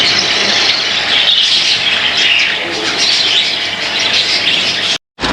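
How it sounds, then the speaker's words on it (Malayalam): Finches in a home aviary keep up a dense, busy chatter of high chirps and squeaky tweets. The sound is fairly loud and close, with a brief dropout near the end. "പക്ഷേ ഫിഞ്ചസിനെ കണ്ടോ ചേച്ചേ? ഇഷ്ടംപോലെ ഫിഞ്ചസ് ഉണ്ട്."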